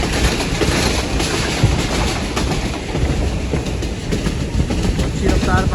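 Hazara Express passenger train running at speed on rails between Lala Musa Junction and Phularwan, a steady loud rumbling roar with rattling wheel clatter throughout, heard from on board.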